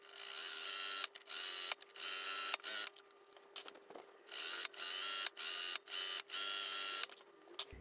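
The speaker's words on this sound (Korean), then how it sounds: "이렇게 끝선에 한 줄을 박았죠." A sewing machine stitches a line along the edge of a jacket-style blouse seam, running in repeated short bursts of rapid mechanical whirring separated by brief pauses.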